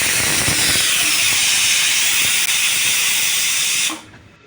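A pressure cooker vents steam in a home kitchen, giving a loud, steady hiss that holds for about four seconds and then cuts off abruptly.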